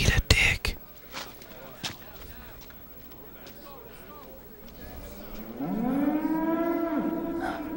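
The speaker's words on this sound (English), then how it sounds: "The cow noises." A video-game cow in Metal Gear Solid 4 moos loudly and long near the end, after a few sharp thumps and quiet rustling at the start.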